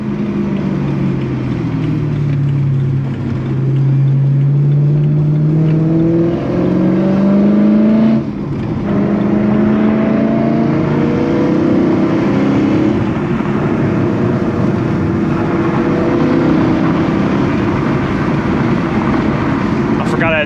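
BMW M4 with a six-speed gearbox accelerates through the gears on a road, its engine note climbing in pitch and dropping at each shift, loud and steady from inside the car with a brief voice near the end.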